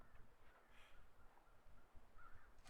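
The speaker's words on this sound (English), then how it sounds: "You got your regular crows." Crows in the winter survival game The Long Dark cawing faintly at a distance, several scattered calls over quiet ambient background, no talking.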